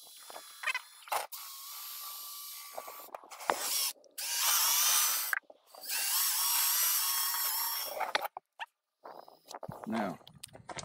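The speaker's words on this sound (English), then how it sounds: "this paint stirrer, we're going to go ahead and stir it up" Scraping, swishing strokes of a stick stirring paint in a can, in repeated bursts with short pauses and a brief voice near the end.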